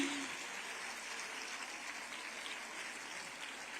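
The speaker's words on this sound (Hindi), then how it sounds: "अपने स्थान पर खड़े होकर जोरदार तालियों से आप अपने हृदय के उद्गार उन तक पहुंचाएं" Steady, distant-sounding applause from a standing crowd at a ceremony flagging off special buses in Lucknow, a faint even patter that continues without pause.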